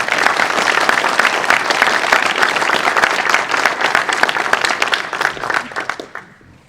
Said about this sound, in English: I think that in itself deserves a round of applause